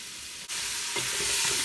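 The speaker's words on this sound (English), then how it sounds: "so to my pot, I'm just going to put my carrots, celery, and onion." Carrots, celery and onion hitting hot olive oil in a soup pot, a sudden loud sizzle that builds into a steady, close crackling fry.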